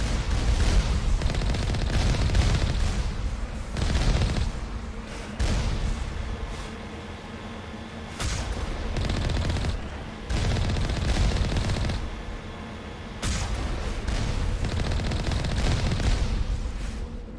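Enemy gunfire in the video game Mass Effect 1 (Legendary Edition): loud, dense bursts of rapid shots and blasts keep going with brief gaps throughout, with almost no talking over them.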